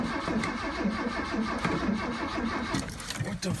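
A 1979 Ford F-150 engine idles roughly after a cold start with no throttle applied, a loud, uneven mid-range rumble that runs continuously with slight surges and lurches near the end.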